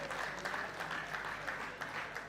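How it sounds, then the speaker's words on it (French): Wedding guests applaud the bride, a continuous, even roar of many hands clapping, steady and somewhat distant throughout. "Vos applaudissements pour elle."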